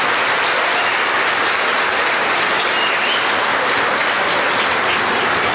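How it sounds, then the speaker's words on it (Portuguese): A church congregation applauds loudly and steadily, a dense sustained wash of clapping that fills the whole stretch with no talk. "Aplauda ele bem forte, bem forte."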